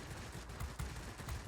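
Rapid 23mm cannon fire from an XP-36F fighter in World of Warplanes, a steady stream of muffled, thudding shots with a few heavier bursts, fairly faint overall.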